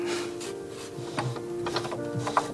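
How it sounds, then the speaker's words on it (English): A new sewing machine sews the seams of a pinafore skirt for an art doll, a fast mechanical whir heard up close with a steady hum and a few small clicks. "I begin with my new machine by sewing the seams for the skirt part"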